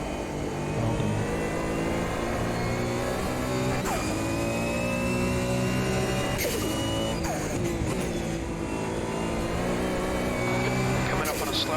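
Porsche 911 GT1 race car engine at Laguna Seca in the Automobilista 2 racing game, a loud sustained high-revving drone with repeated gear-shift drops, heard continuously while a driver talks.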